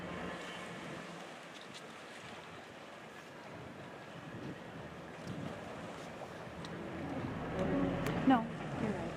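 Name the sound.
boat moving on water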